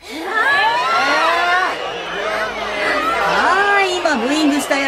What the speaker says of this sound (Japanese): 今ブーイングしたやつ、前に出ておいで。